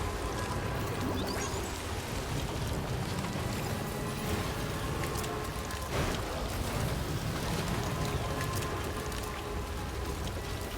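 Steady, dense rain hiss pours down in a rainy area of Death Stranding 2, constant and unbroken for the whole stretch with no voices.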